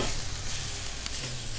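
Chicken wings sear on a hot grill around 400 degrees, a steady, close, hissing sizzle with a couple of brief crackles, no talk over it.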